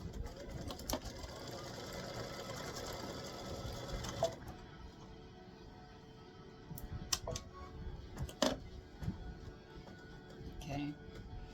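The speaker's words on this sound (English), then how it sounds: "color stop number 3 is to stitch the other pickleball" An embroidery machine stitches a pickleball design with a rapid, even mechanical chatter for about four seconds, then stops, leaving quieter clicks and clacks.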